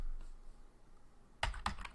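Typing on a computer keyboard while entering Linux commands: a couple of quiet, close key clicks near the end of an otherwise soft, still stretch.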